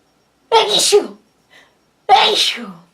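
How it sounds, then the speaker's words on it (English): Two loud, close sneezes about a second and a half apart, with a brief faint sound between them. "I'm going to sneeze."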